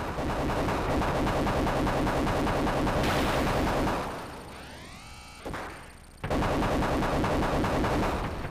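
Missiles and rapid gunfire from the Sega Genesis game Desert Strike crackle in dense, loud electronic bursts, broken midway by a falling synthesized sweep before the barrage resumes.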